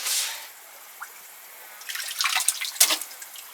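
Spring water trickles and drips into an off-grid well in Portugal, a soft steady wash with scattered brighter splashes and drips growing busier toward the end, fairly close and alone.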